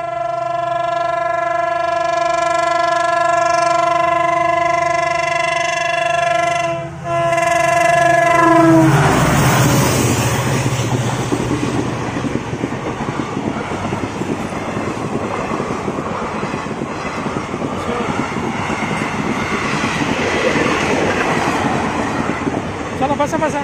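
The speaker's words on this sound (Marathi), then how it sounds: "इकडून येते ट्रेन" A train sounds a long, loud horn close by, then thunders past with a heavy, continuous rattle and rumble of wheels and cars, and wind buffets the microphone.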